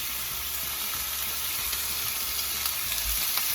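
Venison searing in a hot pan on a stovetop burner, with a continuous dense sizzle and crackle that stays loud and steady throughout, close up.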